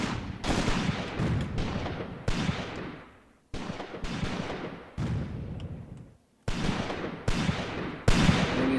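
Heavy gunfire and artillery in the WWII tactics game Graviteam Tactics, set around Shilovo in 1942: dense, loud volleys and bursts crackle in long stretches, broken by a couple of abrupt short silences, with no talking.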